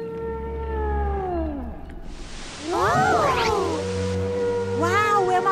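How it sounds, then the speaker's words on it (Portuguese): A cartoon whale in a children's pirate show sings a few long, sweeping calls that rise and fall, with whooshing water-like sound between them. "Oh! Uau, é uma baleia!"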